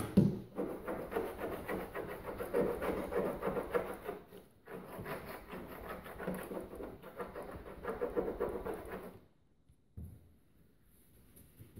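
An absorbent oil pad rubs adhesive off a truck hood in a steady, close back-and-forth scrubbing rhythm that pauses briefly partway through, then stops near the end with only faint room sound left.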